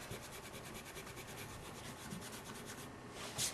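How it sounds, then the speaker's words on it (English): Dry rubbing of dark color onto a wooden puzzle tray, a steady close scratchy swish of light back-and-forth strokes that runs throughout with no voices. "just rub right here in the center with light pressure when you begin so that you don't make a mess"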